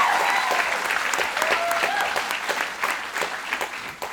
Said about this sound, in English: he should get a round of applause